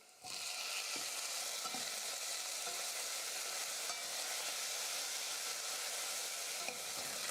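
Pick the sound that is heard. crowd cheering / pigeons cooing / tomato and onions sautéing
tomato and onions sautéing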